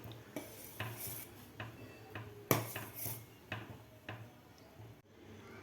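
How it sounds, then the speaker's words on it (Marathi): Poha being stirred in milk in a pot for poha kheer, a spoon scraping and knocking against the metal in a slow uneven rhythm of distinct clinks, close and fairly quiet. "पोहे घातल्यानंतर थोड्या वेळाला याला हलवत राहायचं आहे"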